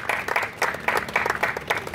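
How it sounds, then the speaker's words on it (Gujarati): A church congregation claps at a Christmas fellowship gathering, a brief burst of moderately loud applause in uneven waves of hand claps, with no talking over it. "તાળીઓના ગણગણાટથી તમને વધાવી લઈએ."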